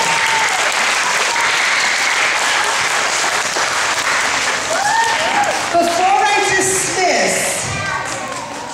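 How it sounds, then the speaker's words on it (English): Audience applause fills a school STEM fair medical panel hall, a steady dense wash of clapping from a large crowd of children and adults that tapers off near the end. "Another round of applause."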